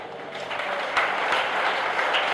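A church congregation at an Argentine prophetic service breaks into steady applause, a dense wash of clapping that holds at an even level throughout with no voices standing out.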